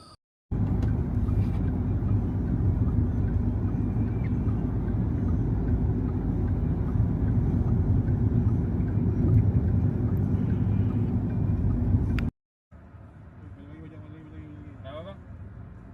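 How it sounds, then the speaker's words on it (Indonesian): A car bound for Central Java and Yogyakarta rumbles loudly and steadily for about twelve seconds, then cuts out briefly and returns as a quieter engine hum with faint sounds over it. "Ini mobil yang akan saya tumpangi nanti yang akan menuju ke Jawa Tengah dan Jogja."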